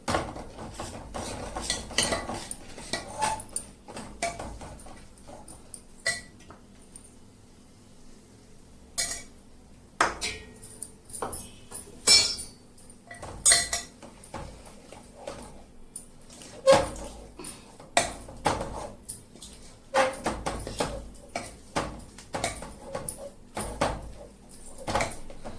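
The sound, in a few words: stirring wheat flour into sugar syrup in a pan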